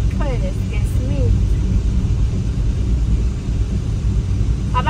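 A car's engine hums in a steady low rumble from inside the moving vehicle, droning throughout while a person talks over it.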